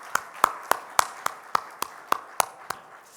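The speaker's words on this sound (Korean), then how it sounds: "우리 하나님께 다시 한번 영광의 박수 올려드릴까요?" Sharp hand claps from a church congregation during a worship service ring out in an even, steady rhythm, about ten in a row, with quiet between them and no talking.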